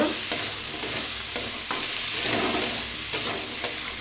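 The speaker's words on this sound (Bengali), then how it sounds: "এবার আমি মশলাটাকে কষিয়ে নেব" Chili and turmeric spice paste fries in a pan, a steady close sizzle broken by sharp clacks of a spoon stirring and scraping every half second or so, with no voices.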